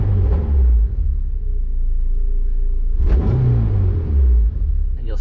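A Honda engine on a Kpro crackle tune, revved while stationary: a loud, close, low rumbling idle that swells in two rev bursts, with no popping or crackling on deceleration.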